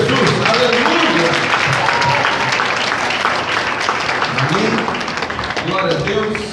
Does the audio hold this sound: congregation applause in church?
yes